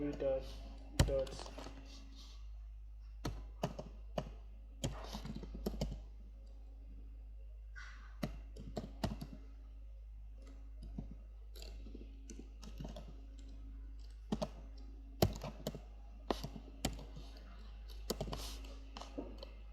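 Someone types on a computer keyboard in irregular bursts of crisp, close clicks separated by short pauses, fairly quiet over a low steady hum.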